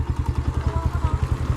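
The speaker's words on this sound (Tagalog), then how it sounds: "Pasok ko na lang po yung motor ko, okay lang po?" A motorcycle engine idles nearby, a rapid, even low putter of regular pulses lasting under two seconds.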